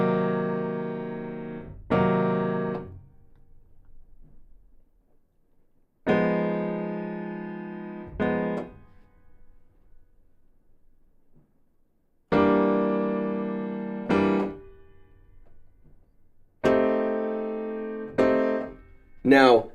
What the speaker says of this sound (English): Now the next one is the half diminished chord